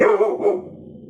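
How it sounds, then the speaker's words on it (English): A pet dog barks close by, a couple of quick loud barks that fade into a short rough trailing sound. "Excuse my dog barking in y'all's ear."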